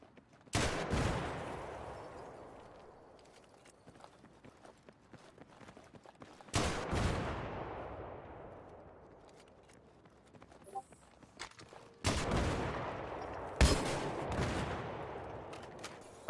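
Gunfire in Battlefield 3 on PS3: three or four sharp, loud bursts of shots, each tailing off into a long decaying echo, separated by quieter stretches.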